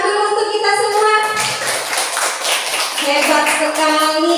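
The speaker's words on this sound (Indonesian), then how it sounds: "tepuk tangan dulu untuk kita semua" A classroom group claps their hands together in a short burst, a bright, close patter of clapping with children's voices and talk around it.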